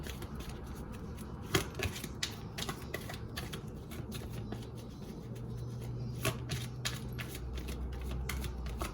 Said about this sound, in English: Just gonna shuffle these cards a little bit.